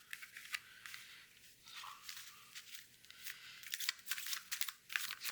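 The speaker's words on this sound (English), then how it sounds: "I'm going to do a little bit of shuffling here." Tarot cards are shuffled by hand in a quiet room, giving light, papery riffles and crisp snapping flicks that come in irregular bursts, close and soft, with no voices.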